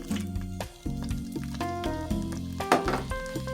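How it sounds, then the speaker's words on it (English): Turkey bacon hits hot olive oil in a Dutch oven, giving a close crackling sizzle with wet popping bursts, and quiet clinks and music-like tones run underneath. "Next, I'm going to add in my turkey bacon,"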